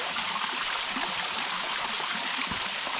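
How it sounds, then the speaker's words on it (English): Water splashes and streams steadily near icicles on ice, a constant close rushing flow with no voices over it. "So this water's kind of splashing and these icicles standing under them."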